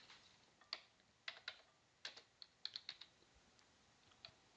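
A command being entered on a computer keyboard, a quiet, close run of light irregular keystrokes in small bursts, with no talking.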